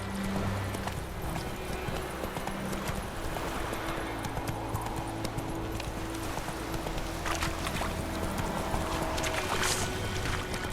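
Hooves of the horse Roach clip-clop at a steady gallop in The Witcher 3, set against a dense, continuous wash of ambient noise throughout.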